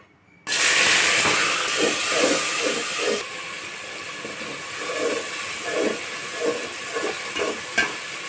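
A ground paste of garlic, onion, ginger and green chili with dried chili, salt and turmeric hits a hot pan for a drumstick and potato fish curry. A sudden loud sizzle settles into a steady hiss broken by stirring scrapes.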